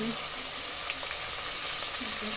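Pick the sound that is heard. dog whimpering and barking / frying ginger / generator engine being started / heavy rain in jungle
frying ginger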